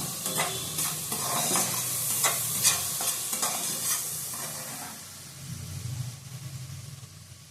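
Salt, Kashmiri chilli powder and turmeric fry in a pan while being stirred, giving a loud, continuous close sizzle with rough scraping strokes that ease off toward the end.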